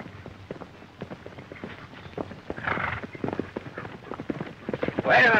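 Horse hooves clip-clop at an easy pace in a 1934 western, with someone talking over the hoofbeats throughout and a brief louder burst at the end.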